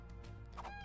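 A few short clucking, fowl-like calls from a dodo in the mobile video game ARK: Mobile, with a brief squawk near the end over steady game background noise.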